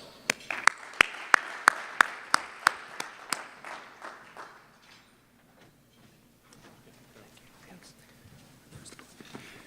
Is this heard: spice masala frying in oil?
no